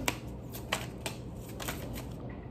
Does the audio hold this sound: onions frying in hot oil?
no